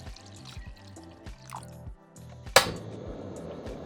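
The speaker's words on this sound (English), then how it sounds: "Cover the potatoes with cold water and then turn on the heat and bring to the boil." Cold water pours from a tap into a pot of potatoes with a sudden splashing gush after a few soft knocks and drips, then keeps running as a steady rushing hiss.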